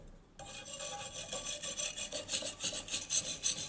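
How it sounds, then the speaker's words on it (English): Wire brush scraping bare metal on a homemade stove, a steady rasping rub that starts after a short silence and pulses in rhythmic strokes, close and moderately loud, alone without talk. "Then we'll scrape it off with a wire brush."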